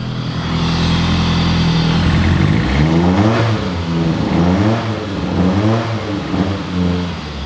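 A naturally aspirated four-cylinder car engine revs repeatedly, climbing and falling in pitch with loud, close, rhythmic swells over a steady idle.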